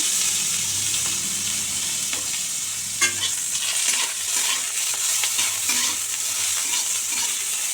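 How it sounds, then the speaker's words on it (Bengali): Eggplant pieces frying in oil in a kadai, a constant crackling sizzle with scattered scraping and turning sounds and one sharp clink, close and moderately quiet. "সেই জন্য আগে বেগুনগুলো ভেজে নিচ্ছি"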